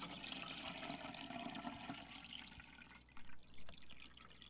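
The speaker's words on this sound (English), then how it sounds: "And I'm going to put a liter of water in here." Water pouring into a Krups Moka coffee maker, a steady broadband splashing stream that fills most of the clip and then trails off into a few gurgles and drips.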